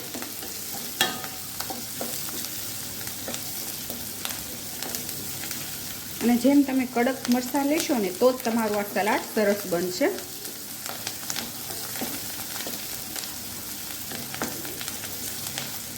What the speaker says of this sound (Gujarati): એને તળી લેવાના છે થોડાક તેલમાં